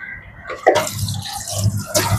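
Water splashes and trickles from a tap, with uneven gushes and drips close by; no speech.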